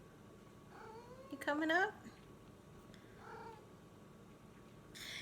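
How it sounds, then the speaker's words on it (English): A cat gives a few meows, one loud rising cry followed by a softer meow, in a quiet room as a person speaks briefly nearby. "Now we have a kitty."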